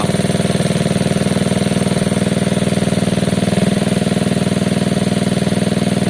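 A Gilera DNA 125cc scooter engine idles loudly and steadily nearby, with a fast, even chugging pulse that barely changes.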